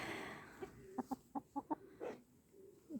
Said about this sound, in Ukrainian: Курочки гуляють, все добре на сонечку.